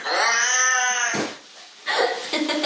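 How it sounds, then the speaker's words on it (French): A cat recording played through a smart speaker: a long, loud, drawn-out meow followed by a short pause and a second harsher yowl. "Voici un enregistrement audio de ce que fait le chat."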